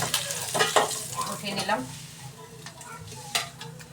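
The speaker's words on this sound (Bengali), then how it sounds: "এখন শিং মাছ ভাজা বসিয়েছি, শিং মাছ রান্না করব, তো এই জন্য ভাজা বসিয়ে দিলাম, ভাজা হোক" Shing fish fry in a pan on the stove, giving a busy sizzle with the scrape and stir of a spatula, close and fairly loud, while a voice speaks briefly.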